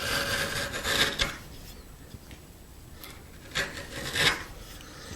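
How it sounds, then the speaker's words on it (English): A sharp chisel pares a bevel on the end of a wooden tenon, producing crisp scraping strokes in two bursts separated by a quieter pause, close and moderately loud. "I'm just going to take a chisel and I'm going to pare a nice bevel."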